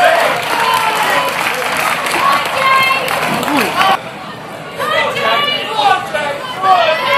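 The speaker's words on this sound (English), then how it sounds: "give him a round of applause!" Crowd applause at a chilli eating contest: steady clapping mixed with crowd chatter and some cheering, with voices audible throughout.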